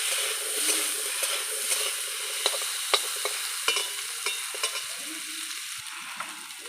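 Turmeric sizzling in hot oil in a pan, a steady close frying hiss broken by scattered small pops and stirring scrapes, no voices present.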